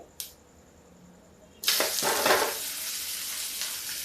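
Cumin seeds hitting hot oil in a pan burst into a loud, steady sizzle after a brief clink, the frying hiss continuing close up and alone to the end.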